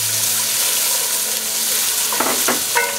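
Celery is tipped into a pot where garlic is already frying. A steady, loud sizzle runs throughout, and scraping stirs come in near the end.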